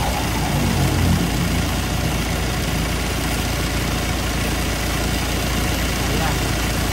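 A Mitsubishi L300 FB engine runs with a freshly replaced but noisy AC compressor, a loud constant idling drone and rattling hum close up, with brief talk over it.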